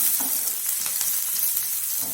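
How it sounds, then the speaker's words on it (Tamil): Steady sizzling of garlic frying in hot oil, a continuous crackling hiss with no talking. "பத்து பல்லு பூண்டு சின்ன சைஸில் நறுக்கி வச்சுருக்கேன் அதையும் சேர்த்துக்கலாம் சேர்த்துட்டு வதக்கணும்"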